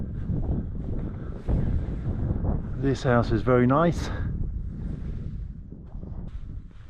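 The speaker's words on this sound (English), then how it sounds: "It's a bit windy as I walk down this road." Gusty wind buffets the microphone with a low, rumbling roar, and someone briefly speaks partway through.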